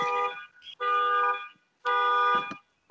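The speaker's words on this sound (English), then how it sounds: "That sounds like Squeaky setting off alarms" An electronic alarm blares in two long, loud tonal bursts separated by short silences, harsh and buzzing, with no voices over it.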